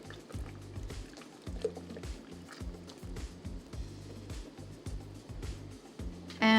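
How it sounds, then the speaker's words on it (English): Room-temperature water pours into a plastic pitcher in a steady, gurgling stream with rhythmic glugging pulses, close by and fairly quiet, ending in a short clatter. "just add some room temperature water to fill up the rest of the pitcher"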